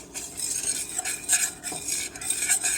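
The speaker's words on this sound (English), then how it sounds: "So she's actually smelling the spices while she's stirring, just to make sure that it doesn't burn." Spices and flour are whisked in a pot for homemade enchilada sauce, with brisk, close scraping and metal clinking against the pot and a light sizzle underneath, continuous with no speech.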